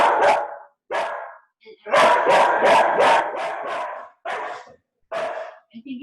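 A dog barks in loud, repeated bursts during a home yoga class, a rapid run of barks in the middle and scattered single barks after it, with brief gaps of silence between.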